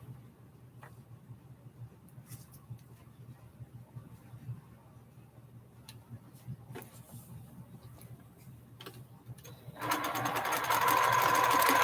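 Sewing machine running a quarter-inch seam on a flying geese quilt block, a steady low whir for most of the span that swells louder and brighter near the end as the stitching speeds up.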